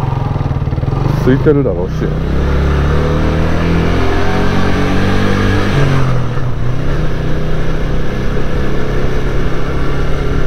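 A Yamaha YB125SP motorcycle's small single-cylinder engine hums steadily while riding through Arashiyama, loud and close with wind rumble, and someone speaks briefly over it near the start.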